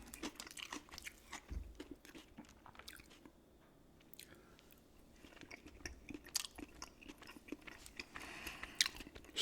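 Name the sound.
chewing and crunching raw carrot and celery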